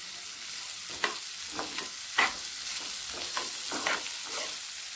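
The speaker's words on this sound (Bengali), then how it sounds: "টমেটো দিয়ে ডালটা নাড়াচাড়া করে নিয়েছি" Red lentil dal with tomato is stirred in a hot pan: a steady close sizzle broken by several distinct spatula scrapes at uneven intervals.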